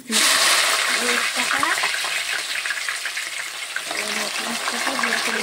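Food fries in a pan of hot oil for Kolkata chicken biryani, a dense crackling sizzle with bubbling and occasional stirring scrapes, steady and close throughout.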